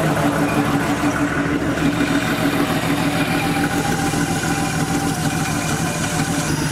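A Porsche 3.2 Carrera engine idles steadily with a loud, even mechanical rumble and throb that stays close and unbroken throughout.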